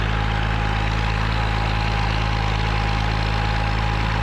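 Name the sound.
Rover P6 car exhaust and engine running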